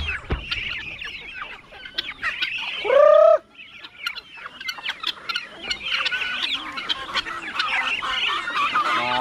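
Ducks call in a noisy flock, with a steady chatter of quacks and squawks and one loud, drawn-out honking cry standing out close by.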